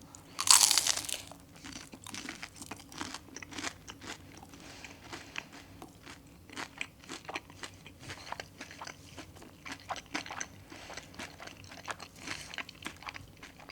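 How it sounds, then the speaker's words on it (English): Close, steady crunching and chewing of McDonald's McPlant plant-based nuggets eaten plain without sauce, with a sharp crisp bite at the start followed by repeated soft, wet mastication sounds, no talking. "I'm eating one without the sweet and sour sauce."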